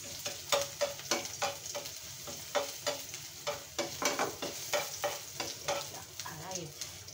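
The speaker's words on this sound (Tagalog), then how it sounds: "Then, lalagay natin yung ating garlic. Hintayin natin yung golden brown." Garlic frying in hot oil in a pan, a continuous close sizzle with regular scraping stir strokes against the metal, fairly quiet and steady throughout.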